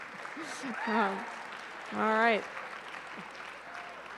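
Audience applause at a medical school clinician investiture ceremony for the Class of 2026, a diffuse patter of clapping in a hall underneath a speaker's talk.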